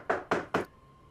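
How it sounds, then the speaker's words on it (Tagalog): Three firm knocks land on a door in a Tagalog movie scene, evenly spaced and close. Each one is a sharp, hollow thud, followed by quiet room tone. "Lala, may kumakatok."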